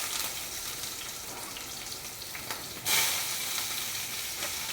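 Onions fry in a pan with a steady, close sizzle and crackle that flares up briefly partway through, with no talking.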